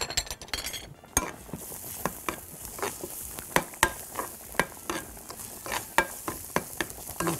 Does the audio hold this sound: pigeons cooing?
no